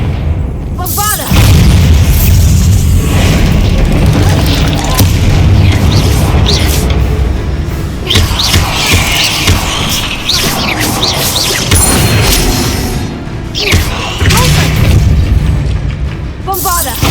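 Bombarda explosion spells blasting in the game Hogwarts Legacy during a fight with a giant spider, loud booming crashes and bursts packed densely across the stretch with shouted spell calls and talk over them.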